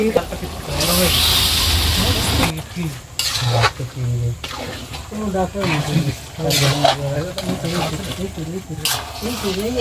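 Mutton being fried in hot oil with spices, sugar and Kashmiri chilli powder, giving a steady sizzle with stirring and utensil scrapes against the pan while someone talks over it.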